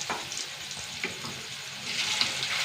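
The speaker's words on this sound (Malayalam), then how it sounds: "വെളിച്ചെണ്ണ നമ്മുടെ ചിക്കൻ പീസ് പോലത്തെ മീൻ പീസ് ഇട്ട് കൊടുക്കുക" Pieces of fish sizzle in hot coconut oil in a pan, a continuous close hissing fry with small stirring clinks, growing slightly louder toward the end, no voices.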